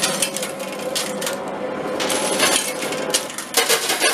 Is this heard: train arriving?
no